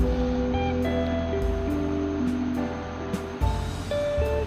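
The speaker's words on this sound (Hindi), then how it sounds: "यहाँ पे मैं थोड़ा सा पानी ज़्यादा डालूँगी" Water poured into a cooking pot while making jaggery rice (gur wale chawal), a steady continuous pour over a faint tonal background that stops briefly near the end.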